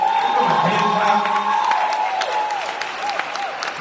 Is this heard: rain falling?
no